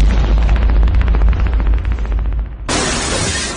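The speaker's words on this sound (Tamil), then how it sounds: "சரவெடி." A string of firecrackers goes off in a loud, rapid chain of sharp bangs for a couple of seconds, then gives way to a sustained hiss of smoke and debris.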